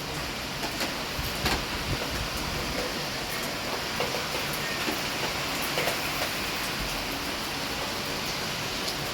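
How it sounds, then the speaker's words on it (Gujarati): Heavy rain pours steadily in Rajkot during a stormy spell, a dense continuous hiss of water on surfaces, loud and unbroken with no voices. "વરસાદ હજી ધબધબાટી ચાલુ જ છે"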